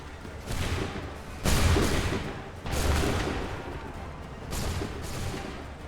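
Volleys of musket fire ring out in Assassin's Creed 3, three broad crackling bursts at intervals, loud and close, each trailing off into rolling smoky noise.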